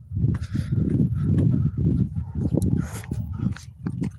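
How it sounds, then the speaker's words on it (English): Several dogs bark and yelp in a rapid, overlapping chorus, fairly loud and steady across the whole stretch with no pauses. "Multiple dogs going at it."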